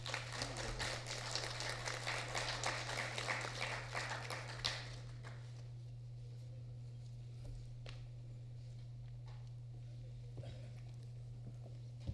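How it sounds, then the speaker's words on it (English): An audience at a keynote address of a summit claps to welcome the speakers, with a few seconds of dense applause that then fades to scattered faint claps over a constant low hum. "I would request all of you to please welcome them with a round of applause"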